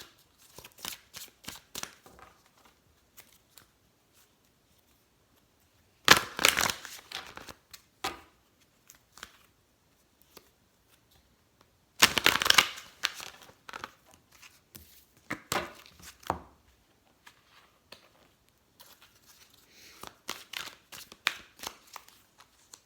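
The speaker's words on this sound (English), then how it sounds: "Bear with me while I just give these a reshuffle." Oracle cards shuffled by hand in several short bursts of quick riffling and slapping, with near silence between them and a few faint taps.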